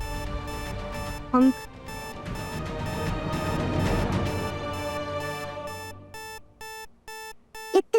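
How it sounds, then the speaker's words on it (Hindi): Safe alarm ringing in a home drama scene, a loud electronic beeping pattern in regular pulses that pause and resume, with a brief voice near the start. "ये तो हमारी तिजोरी का अलार्म है।"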